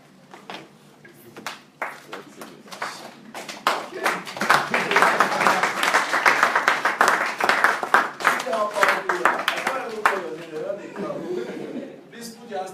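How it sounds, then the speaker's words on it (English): An audience at an event in Abuja claps in a dense, lively burst that swells and then fades, mixed with chuckles and a speaking voice. "I'd like you to welcome, with a good applause,"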